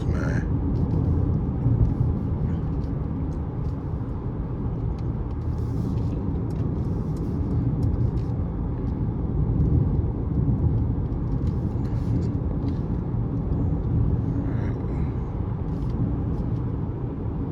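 Steady low road rumble inside a Mercedes C300 driving over rough pavement, a continuous even drone with faint occasional knocks and rattles throughout.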